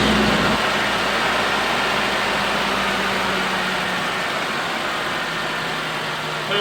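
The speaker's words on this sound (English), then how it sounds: "let's see if that's fixed the engine wobble" A Suzuki Jimny engine idles steadily after a rear engine and gearbox mount replacement, a constant low rumble with a broad even hiss, close and unchanging for the whole stretch, no voices.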